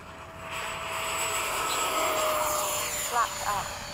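An FMS F/A-18 RC model jet flies overhead with a steady, loud turbine whoosh and hiss, while people talk in the background near the end.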